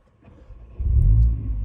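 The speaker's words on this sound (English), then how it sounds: "let's start up the engine" A car engine on a sunny mountain-pass drive cranks and catches, a quiet start that swells into a deep, steady idle rumble, close and alone with no talk.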